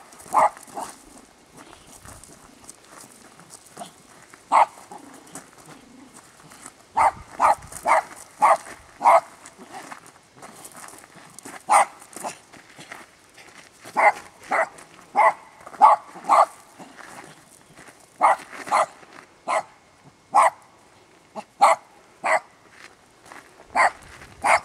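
A dog barks repeatedly in sharp, loud, irregular bursts, close by, across the whole stretch, with occasional people's voices in between.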